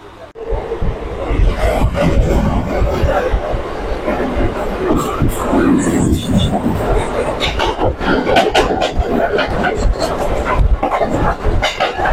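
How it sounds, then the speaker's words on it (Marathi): Steady rumble and rattle of a moving Mumbai suburban train carriage heading from Borivali to Bhayandar, with clacking bursts, a murmur of voices and talk throughout. "बोरवली पकडली ट्रेन आपण"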